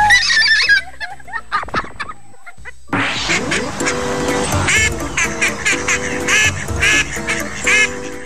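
A duck quacks in a rapid, repeated series that sounds like laughter, loud and close, with a steady tonal backing under the later calls.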